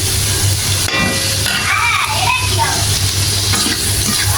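Food frying with ginger paste in a pan sizzles loudly and steadily up close, with stirring scrapes and faint background voices of children.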